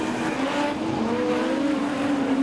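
Production sedan race cars roaring around Kingaroy Speedway, a loud, sustained engine drone with rising and falling pitch as several cars pass close together.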